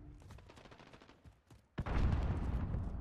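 Gunfire from a hybrid SMG-style gun in the Call of Duty Modern Warfare beta breaks out as a sudden dense burst of rapid shots after a stretch of quieter game noise.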